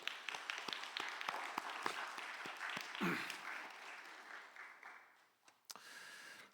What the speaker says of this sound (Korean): 우리 하나님께 영광의 박수를 올려드리시겠습니다